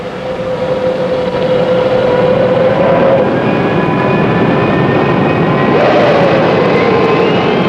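Number 3 jet engine on a 1960s classic jetliner spooling up, a loud steady roar with rising whining tones that climb in pitch partway through, continuous and close, with no talk.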